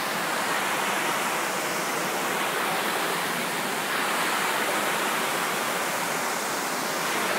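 A soft wash spray runs dirty water off house surfaces as a continuous, even hissing rush of water close by, steady throughout with no talking.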